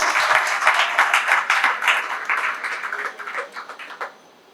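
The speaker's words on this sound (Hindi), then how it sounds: "एक बार जोरदार ताली बजा दें।" An audience at a religious gathering in India claps loudly for an honoured guest, with many hands in a thick burst that thins and fades over several seconds.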